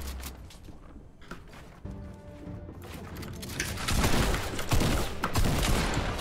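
Fortnite gunfire rattles through a busy match, starting quiet and building into loud, dense volleys of shots near the end.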